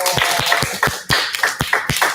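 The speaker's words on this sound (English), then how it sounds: "Let's give everybody a round of applause." A small group claps together after a physical activity during a virtual school assembly, giving a short round of applause with distinct, uneven hand claps close to the microphone.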